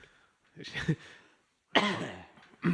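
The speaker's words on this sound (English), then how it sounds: "I've done a cough. I'm coughing." Two close, harsh coughs, one short burst then a louder, longer one, separated by a brief silence.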